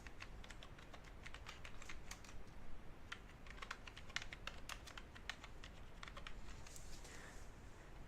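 Steady typing on a computer keyboard while working through Windows 10 settings, a continuous patter of close, quiet key clicks with irregular rhythm and no talk.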